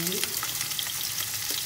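Garlic fries alongside onion in hot olive oil for lentil soup, giving a short, even, close-up sizzle with faint crackles throughout.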